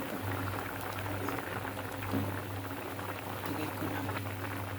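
Corn and shrimp soup boiling in a pot, a continuous soft bubbling and simmering with a low hum, while a voice speaks briefly over it.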